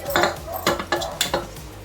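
Foxtail millet dry-roasting in a pan, with a spatula scraping and clinking against the metal in four or five distinct strokes, close and moderately loud, with no talk.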